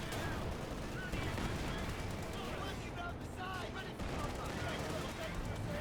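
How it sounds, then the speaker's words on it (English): An artillery strike in the WWII strategy game Company of Heroes 2: a dense wash of battle noise with repeated gunfire bursts and thudding impacts, while a commentator talks continuously over it. "it looks like some artillery being called in from the Major"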